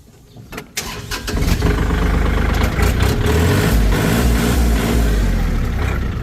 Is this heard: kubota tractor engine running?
yes